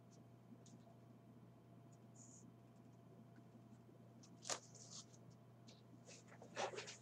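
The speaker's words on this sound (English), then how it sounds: "using the graphite pencil and the blender." Faint scratchy strokes of a graphite pencil on paper, with blending, over a low hum, with a few sharper scrapes and rustles.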